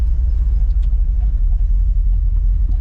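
A Ford F100 truck engine runs loud and close during a first gear pull, a heavy low rumble with steady throb and slight revving, continuous with no talk.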